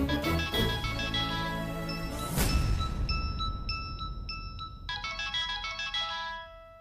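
A mobile phone rings in a Tamil crime thriller series, its bright electronic melody of repeating chime notes playing loud and close, breaking briefly around a sharp swell before the tune resumes, with no talking.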